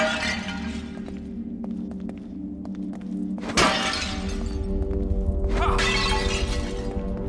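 Objects smashing in The Evil Within inside a large mansion, a sharp glass-like shatter mid-way followed by another crash of breaking debris over low game ambience.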